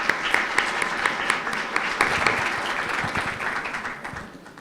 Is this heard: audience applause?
yes